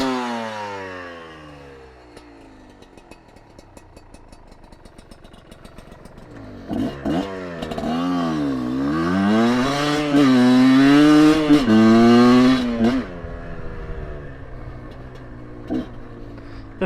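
A Kayo 250 two-stroke dirt bike revs hard and shifts up through its gears on an off-road trail, the engine note climbing, dropping and climbing again with each gear change, loud and close with no talk.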